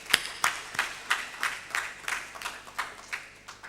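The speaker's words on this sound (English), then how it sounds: "a round of applause for you and CREDAI youth" Audience at a real estate industry event clapping in a round of applause, a fairly sparse, uneven patter of distinct claps, moderately loud, with no talking over it.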